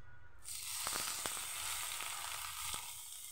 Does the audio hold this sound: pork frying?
yes